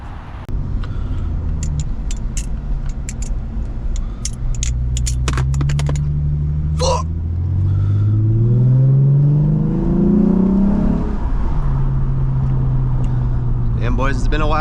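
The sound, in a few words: tuned 2017 Lexus IS350 with intake and exhaust driving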